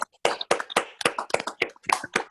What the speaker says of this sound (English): we're going to try to give the keynote speaker and the winners a warm round of applause